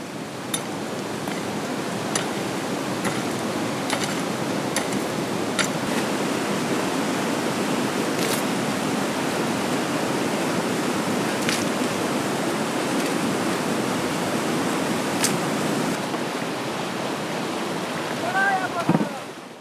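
Water from a mountain stream near a monastery flows in a steady broadband rush, continuous and fairly close, with a few faint clicks and a brief chirp near the end.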